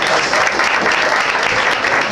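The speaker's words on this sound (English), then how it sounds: "Clap it up for Josh." A comedy club audience applauds steadily for a stand-up comedian, a dense, loud wash of clapping that fills the whole moment without pause.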